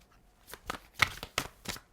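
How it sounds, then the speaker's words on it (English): A deck of tarot cards is shuffled in quick, soft riffling bursts, about five crisp flicks in a row, close and fairly quiet, with no talking. "One more shuffle, please."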